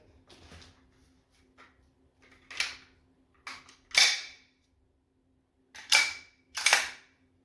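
A Bruni P4 9mm PAK blank pistol, a replica of the Beretta PX4 Storm, is loaded and a round chambered: several sharp, close metallic clicks and clacks come in irregular bursts in a quiet room.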